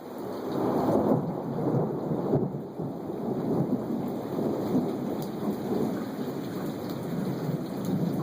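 Thunder rumbling through a severe late-winter storm with lightning, steady rain pouring on surfaces throughout, the low rolling rumble swelling loud early on and continuing beneath the downpour with no voices.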